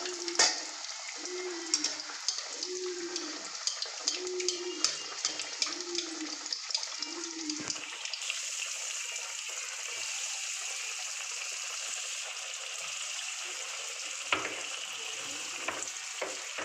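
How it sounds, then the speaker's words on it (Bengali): Vegetable chops frying in oil crackle and sizzle steadily nearby, with bubbling that grows louder and denser partway through as more go into the pan. "এবার আমি চপগুলোকে ভেজে নেব।"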